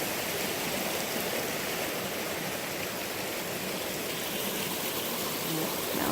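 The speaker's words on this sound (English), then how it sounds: "I love listening to the water." A flowing creek in a golden forest near Lost Creek in the mountains, a steady full rush and babble of water filling the scene continuously at close range, with no voices.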